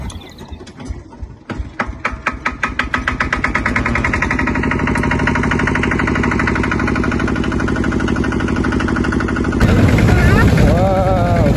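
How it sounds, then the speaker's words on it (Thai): A tractor engine chugs up from slow, separate putts into a fast, steady, loud drone, then roughens near the end as it revs or moves off, with a voice briefly heard over it. "ว้าวขี่รถไถ"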